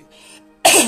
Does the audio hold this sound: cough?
yes